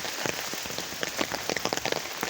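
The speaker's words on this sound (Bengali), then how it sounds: "ওয়াও, অঝরে বৃষ্টি।" Heavy pouring rain: a dense, steady patter of drops striking surfaces nearby, continuous and uniform, with no voices.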